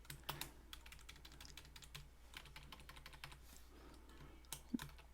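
Typing on a computer keyboard, quiet close key clicks in quick irregular bursts with brief pauses, over a faint low hum.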